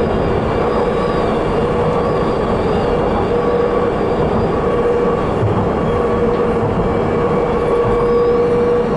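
Steady rumbling of a Docklands Light Railway train in motion, with a continuous roar and faint high tones from the wheels, loud and unbroken throughout.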